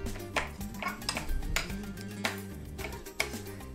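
A metal knife taps repeatedly against a bowl, giving sharp clinks in an uneven rhythm, close and fairly quiet.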